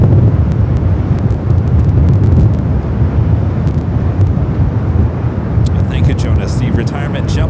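An Alaska Horizon airliner in retro livery rumbles at LAX in gusty wind, a loud, steady low engine drone mixed with wind buffeting the microphone, and a voice talking briefly toward the end.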